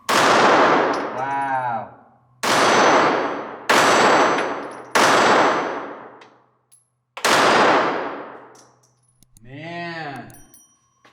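Ruger Security 380 pistol fired outdoors: five loud, sharp reports spaced about a second apart, each followed by a metallic ringing tail, with a brief spoken exclamation at the end.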